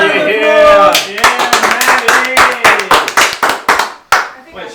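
Sharp hand claps ring out in a quick, uneven run on a comedy game-show stage, following a raised voice at the start and thinning out toward the end.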